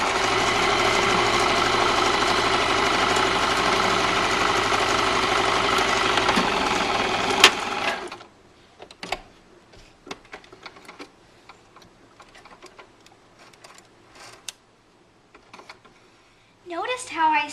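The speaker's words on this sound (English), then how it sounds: "Sew the fabric together on one side like this." A sewing machine joins squares of quilting fabric, whirring steadily and loudly for about eight seconds before stopping, followed by faint handling clicks and rustles.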